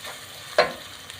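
Dalda cooking oil sizzles steadily in a pan, a soft close frying hiss with one sharp utensil clink near the middle and a fainter tap afterward.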